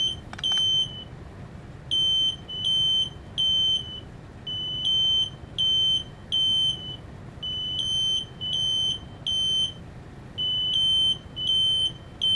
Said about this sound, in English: That's my smoke alarm.